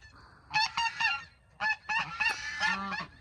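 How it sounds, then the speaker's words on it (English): Loud, close goose honks in quick bursts, several birds calling over one another with short pauses between flurries. "If I counted correctly, there are 14 geese"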